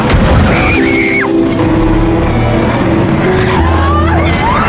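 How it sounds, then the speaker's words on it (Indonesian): Film scene of driverless electric cars crashing into other cars: loud continuous collision noise with booming impacts, scraping metal, tyre squeals and a low rumbling engine drone throughout. "mobil listrik itu pun kembali berdatangan dan menabrak mobil lainnya"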